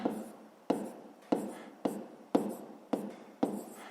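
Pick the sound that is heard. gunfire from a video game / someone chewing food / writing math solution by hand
writing math solution by hand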